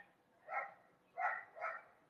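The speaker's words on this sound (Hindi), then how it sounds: "क्यों भौंक रही है" A dog barks three times, faint and somewhat distant, with short gaps between the barks, in an otherwise quiet indoor setting.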